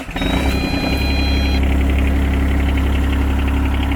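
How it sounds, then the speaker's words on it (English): A Rhino XN12 plant machine's diesel engine cranks and catches, then settles into a loud, steady, close-up idle with a rhythmic low knock. "so that has warmed up the glow plug, so hopefully now it will start."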